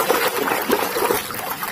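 Clean water is poured over muddy toy cars and trucks as they are washed. It makes a close, continuous trickling and splashing for under two seconds.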